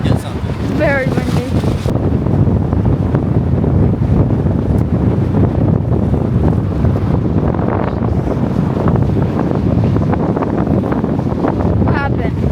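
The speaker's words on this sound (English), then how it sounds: "Really windy day, but we're gonna get something. Very windy." Strong wind buffets the microphone with a continuous loud roar and rumble in Key West, while a voice speaks briefly near the start and again at the end.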